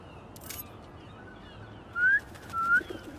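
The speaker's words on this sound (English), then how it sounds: "Try a whistle." Two short rising whistles sound in the Spider-Man 2 video game, clear and fairly close over a low ambient bed with faint bird sounds.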